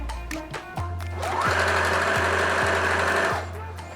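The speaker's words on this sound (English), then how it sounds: "we're just going to sew it in, take it in a little bit" A sewing machine runs a seam to take in thrifted track pants, with a few short stitching bursts first and then one steady, close whirring run of stitching.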